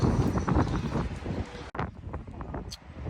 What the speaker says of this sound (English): it's super windy today, so I'm not sure how good this audio is gonna sound